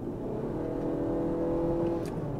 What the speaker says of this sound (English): the engine will spool up because you asked it to